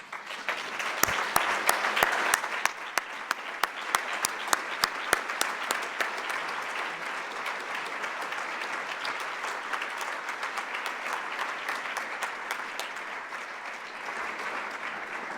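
A debate audience in an auditorium applauds a participant, with a long steady round of clapping. Sharp individual claps stand out near the start and the sound settles into an even, sustained patter.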